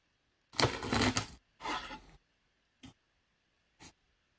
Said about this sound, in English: I'm gonna cut these in half.